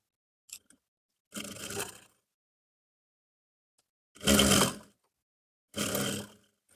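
Sewing machine stitching a trouser belt in three separate bursts, the longest near the start and two shorter runs later, each a dense rapid mechanical whir, close and clear with quiet gaps between.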